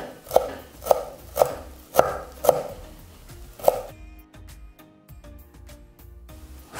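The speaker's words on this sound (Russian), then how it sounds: "Также беру пару веточек укропа и нарезаем мелко." A knife chops dill on a cutting board in steady, evenly spaced thuds, about six close loud strikes, followed by quieter kitchen sounds.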